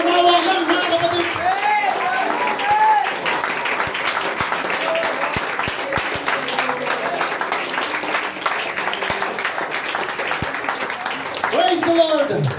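A church congregation claps and shouts during a Filipino sermon, the crowd noise rising in bursts beneath a preacher's steady, loud voice.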